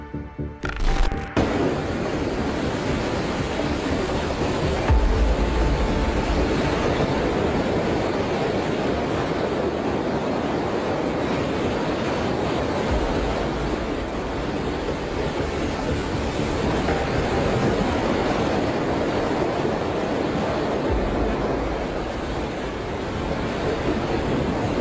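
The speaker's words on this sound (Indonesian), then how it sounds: "sebuah kapal nelayan di Cilacap menerjang tingginya ombak di tengah lautan yang ganas" Heavy, continuous roar of rough sea and high waves around a small fishing boat in bad weather, loud and close, with wind-like rushing and a few sharp bursts near the start.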